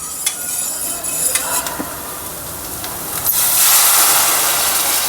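A spice tempering sizzles in a pan on full flame while buttermilk kadhi with gram flour is made, a steady hiss with scattered clinks and stirring that swells louder near the end; no voices.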